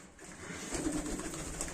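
Baku fighting pigeons coo softly in a short, continuous low murmur, fairly close and quiet, with no voices over it.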